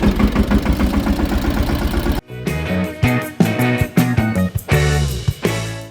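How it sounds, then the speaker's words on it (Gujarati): A tractor engine runs at a farm field, a loud, close, steadily chugging mechanical drone that shifts into a rougher, uneven rumble partway through. "ટ્રેક્ટર લઈને આવી ગયા"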